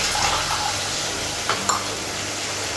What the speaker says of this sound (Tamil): ஒரு சின்ன நெல்லிக்காய் அளவுக்கு புளியை கரைச்சி இதோட சேர்த்துக்கலாம்.